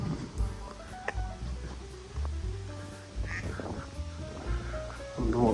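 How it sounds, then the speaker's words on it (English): Ducks quack repeatedly at a moderate distance, several short nasal calls scattered over a quiet outdoor background near the Czech town of Hrádek. "If you heard those, some ducks"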